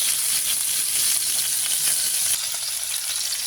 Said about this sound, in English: I'm just gonna saute on the other side for about 60 seconds